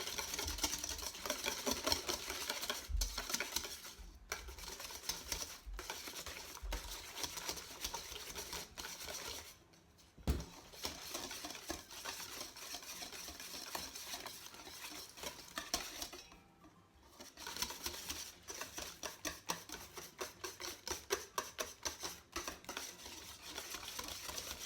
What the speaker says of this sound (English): We'll mix a little bit more so it's not as lumpy.